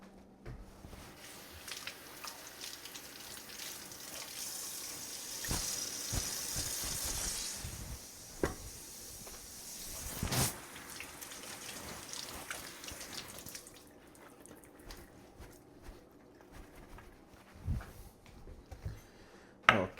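Cabbage rinsed under a running kitchen tap, a steady wash of water with splashing and dripping bursts as the head is turned, fairly close and moderate in level, with no voices.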